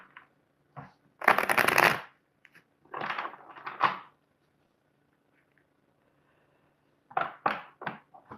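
Tarot cards shuffled in quick riffling bursts, a long loud flutter near the start, two shorter ones mid-way and a final cluster at the end, separated by near silence.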